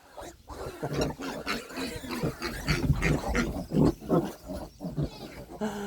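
A herd of pigs and piglets in their pens grunts, squeals and oinks in a busy, overlapping chorus, loud and close throughout, with the animals stirring restlessly.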